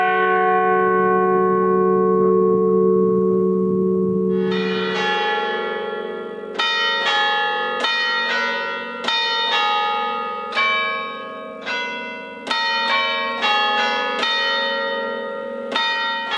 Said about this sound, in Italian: perfettamente risistemate le campane sono addirittura in grado di eseguire un concerto